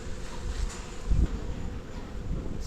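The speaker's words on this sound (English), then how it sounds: "See, just a few bees at the top here." Honey bees buzz softly in a hive box while the hive is being packed down for winter. The hum is a low, steady drone with faint rustling.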